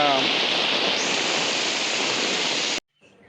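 Heavy monsoon rain pours steadily during traditional rice planting in rural Konkan, a dense, loud, even hiss that cuts off abruptly near the end.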